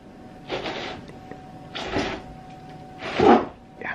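Archimedes screw auger spun by hand inside a split pipe: three scraping, grinding bursts of friction, each rising and fading over about half a second, close up with no talk.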